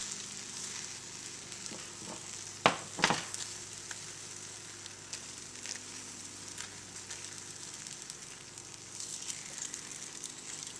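An egg omelette topped with cheese cooking in a pan, a quiet steady sizzle with two sharp clatters early on and faint scraping afterward, close but subdued.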